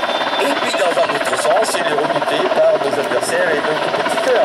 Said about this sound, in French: C'est un hélicoptère qui est reconnu par les Américains et nos alliés